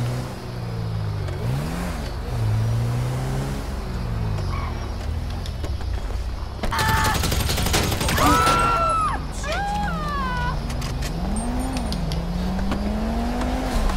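A car drives in the video game GTA Online. The engine revs rise and fall through gear changes, with a sharp surge and squealing tire sounds in the middle, loud and continuous throughout.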